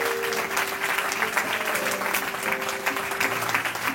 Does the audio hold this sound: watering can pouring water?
no